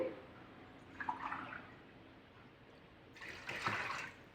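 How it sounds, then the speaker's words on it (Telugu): Water is poured from glasses into a pot of chicken for pulao, two short splashing pours separated by quiet, fairly faint and close. "ఆరు గ్లాసులు పోస్తున్నానండి"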